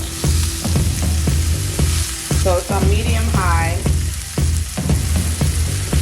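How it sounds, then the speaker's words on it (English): Ribeye steak sizzles steadily in a hot pan, with crackling bursts and repeated scraping taps, while a person speaks briefly over it. "you hear that sizzle?"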